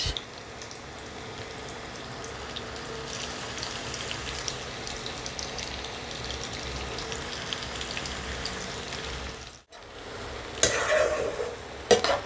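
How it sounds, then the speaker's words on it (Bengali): Chopped onions frying in hot white oil in a kadai, a steady close crackling sizzle like rain on a surface that drops out for a moment near the end, with no talking. "পেঁয়াজ মোটামুটি ভাজা হয়ে গেছে"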